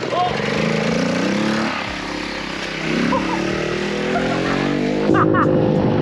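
A cheap custom-built scooter's small engine revs and drones continuously as it is ridden up a street, loud and close, its pitch rising and falling and surging near the end, with voices mixed in.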